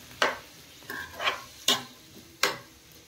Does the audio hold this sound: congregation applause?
no